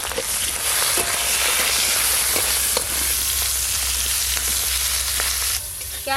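Capsicum frying in oil, a loud, steady close sizzle with scattered sharp ticks from stirring, and a low hum underneath that eases off just before the end.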